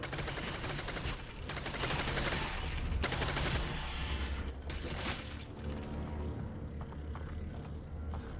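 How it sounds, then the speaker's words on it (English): SMG fire in Half-Life: Alyx: dense, continuous bursts of rapid gunshots ring out, with sharp impacts and mechanical clatter over a busy, fairly quiet game mix. "Well, now the SMG's working."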